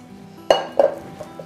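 Chocolate cake batter being scraped off a mixer beater, heard as a few sharp, close clinks and taps of utensil against metal that fade quickly, with no talking.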